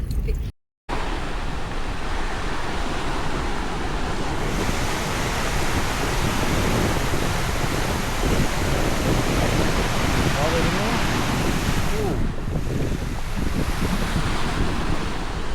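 Sea waves at a harbour near Thalassery wash in as a steady, loud broadband roar, mixed with gusty wind buffeting the microphone. The sound runs continuously after a brief dropout near the start.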